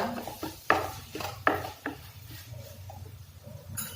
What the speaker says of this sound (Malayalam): എന്നിട്ട് വീണ്ടും നന്നായി ഇളക്കുക.